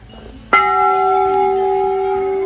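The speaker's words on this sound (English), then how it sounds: "all different sizes of bells, small, big, mini, and the large one" A large temple bell at Jageshwar Dham, a century-old mandir complex hung with bells of many sizes, is struck once and rings out with a loud, sustained metallic tone that slowly fades, heard alone.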